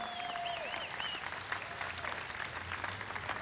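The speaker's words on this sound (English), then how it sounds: "A round of applause for everybody who signed." Rally crowd at a California governor recall event applauding steadily, a dense continuous clapping texture with a few whistles rising over it, fairly loud and sustained throughout.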